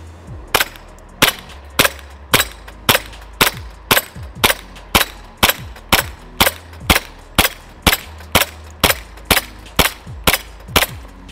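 Rapid, evenly spaced shots from an EMG Strike Industries ARK airsoft gas blowback pistol, around twenty sharp cracks each followed by a short slide clack, loud and close with no talking.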